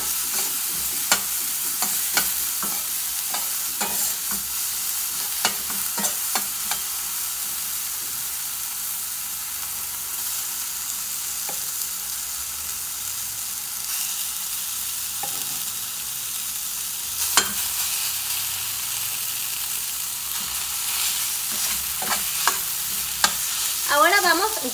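Chorizo and onion frying in a pan for quesadillas, a constant close sizzle and hiss with repeated scraping stirs and spatula taps scattered throughout.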